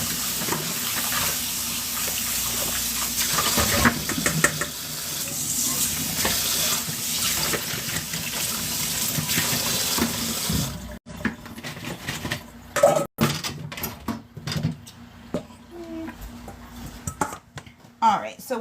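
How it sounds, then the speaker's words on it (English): Eggs are rinsed under a running kitchen tap, a steady broadband water stream lasting about ten seconds, then giving way to quieter sink handling sounds with small clinks and splashes. "we ran them under some water"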